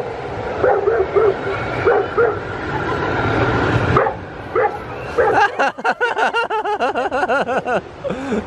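A dog at a Storyland amusement park in New Hampshire gives a run of sharp, rhythmic yips and barks in the second half, following a stretch of crowd noise and talk.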